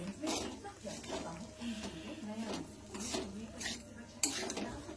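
Boiled vermicelli being stirred in a pan, with repeated soft scraping and clinking of a utensil against the metal in an irregular rhythm, fairly quiet throughout.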